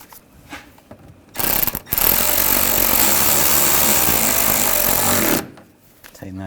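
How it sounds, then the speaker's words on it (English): A power driver tightens screws on the front bumper cover of a 2009–2010 BMW 535i xDrive, first with a brief whir, then a loud, sustained buzzing rattle lasting about four seconds. "And tighten these down. Get this screw started."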